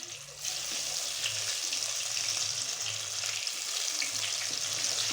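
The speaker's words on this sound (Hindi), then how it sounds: "चिकन पकौड़ा के लिए हमने छोटी छोटी बोटी को लिए ताकि ये अच्छी तरह से अंदर से भी फ्राई हो जाए।" Chicken pakora pieces fry in hot oil with a steady, dense sizzle that holds at an even level throughout, close and continuous with no talking.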